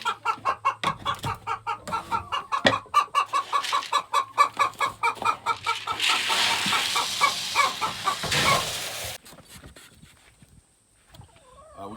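Broody hens clucking in a quick repeated rhythm, close by, the clucks blurring into a busier flurry before fading to near quiet.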